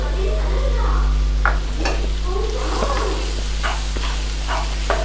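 Ground coriander, cumin and other spice mix being stirred and fried in a pan, a steady close sizzle with repeated scraping strokes of the spoon and no talking.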